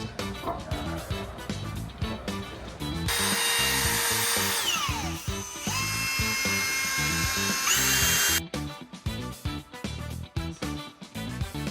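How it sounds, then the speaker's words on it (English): A power drill whines loudly for several seconds as it bores a hole, with its pitch shifting, framed by clattering handling sounds before and after. "we're gonna just drill a little hole in here"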